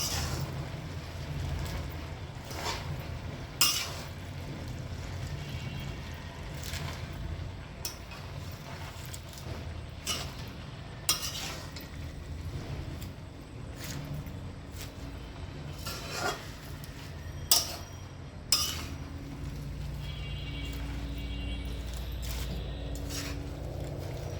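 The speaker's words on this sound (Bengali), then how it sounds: "তারপরে শাক এবং চিংড়ি নেড়ে চেড়ে দিচ্ছি।" Spinach and shrimp being stirred in a pan, with scattered soft utensil scrapes and taps over a steady low sizzle, no talk.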